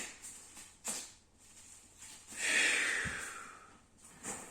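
Breath pushed out during push-up exercise in a fitness class: a soft, close, breathy exhalation swelling over a couple of seconds, with a few fainter breaths around it.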